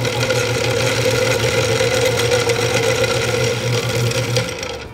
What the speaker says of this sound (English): So we just finished spooling our conventional reel on our new Triangle Sport SC125 Linewinder.